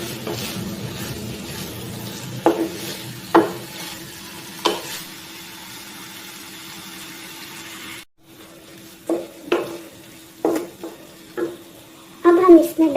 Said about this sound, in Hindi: अब हम प्याज़ों को फ्राई करेंगे।